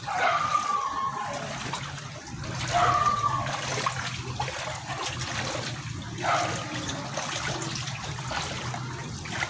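Floodwater from Typhoon Odette flows steadily past a house, a continuous rushing and trickling wash that rises and falls slightly in strength, with brief high squeaks and faint background sounds over it.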